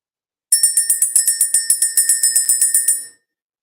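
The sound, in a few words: bell rung to clear energy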